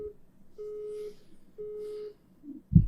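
A telephone busy signal sounds as three evenly spaced steady tone pulses, each about half a second long and fairly quiet, followed by a brief thump at the end.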